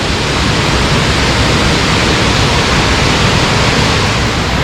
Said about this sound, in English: Salmon Creek Waterfall in the springtime.